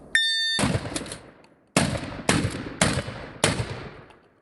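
A rapid series of loud, sharp pump-action shotgun shots, five or six blasts spaced under a second apart, each ringing out with a decaying echo.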